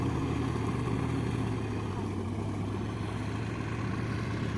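A hired tractor ploughs a farm field, its engine running as a steady, continuous low drone with broadband noise throughout, fairly close and without pause.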